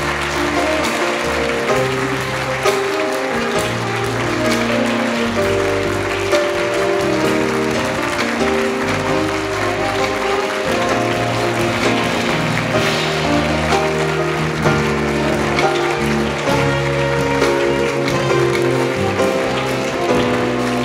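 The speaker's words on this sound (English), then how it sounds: "thanks for the applause" At an inaugural synagogue gala dinner, a large crowd applauds after a speech: dense, loud, continuous clapping that holds steady for about twenty seconds, with sustained tonal music underneath and no talking.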